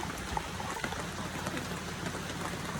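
Rain falls steadily on a surface, a dense patter with scattered louder drops, fairly quiet and with no voices.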